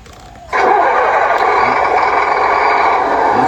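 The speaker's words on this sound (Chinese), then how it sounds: "然后打开发动机" A toy excavator's engine sound starts abruptly and then runs steadily and loudly, a continuous buzzing drone that holds an even level without pausing.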